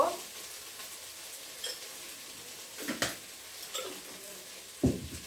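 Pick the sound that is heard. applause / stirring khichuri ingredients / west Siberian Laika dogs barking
stirring khichuri ingredients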